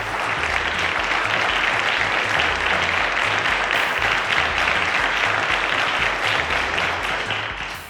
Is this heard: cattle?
no